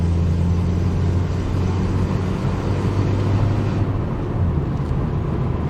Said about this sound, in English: So smooth through this automatic gearbox.